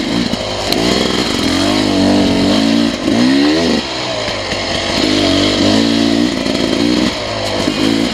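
A 2021 Beta 300RR Race Edition dirt bike crawls slowly up a wooded hill, its two-stroke engine loud and close, burbling at low revs with repeated small rises and dips in pitch as the throttle is worked.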